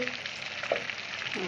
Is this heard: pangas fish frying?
yes